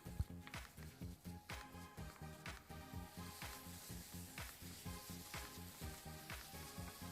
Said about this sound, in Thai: ผัดให้หมูกับ พริกแกงเข้ากันนะคะ